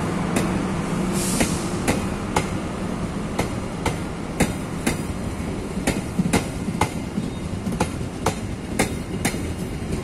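KA Tegal Bahari passenger train standing at Pasar Senen station, with sharp metallic clanks and knocks repeating at irregular intervals over a steady mechanical hum and rumble, no talking.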